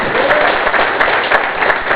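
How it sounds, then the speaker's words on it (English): A poetry slam crowd claps loudly and densely for a performer's score, steady and close throughout with no pause. "applause"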